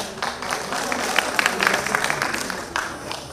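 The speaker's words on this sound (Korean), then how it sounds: "박수 한번 주시고" Audience applause at an autumn music concert held at Bongdeok New Market, steady clapping from a crowd rising and falling over a few seconds, moderately near.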